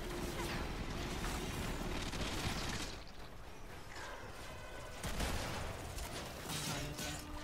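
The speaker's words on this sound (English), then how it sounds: "Optimus, just keep shooting." Rapid, dense gunfire from the video game Warframe rattles on continuously at a fairly low level, with bursts swelling and easing throughout.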